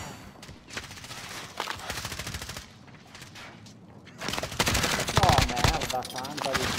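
Automatic gunfire in Call of Duty Warzone, long rapid bursts of machine-gun fire that grow louder and denser in the second half, with a voice speaking over part of it.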